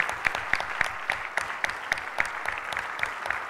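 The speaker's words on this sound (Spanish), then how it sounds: "Yo les quiero pedir que les den un aplauso." Audience applause at a closing ceremony, a steady wash of many hands with regular sharp claps punctuating it, fairly close and sustained throughout with no talk over it.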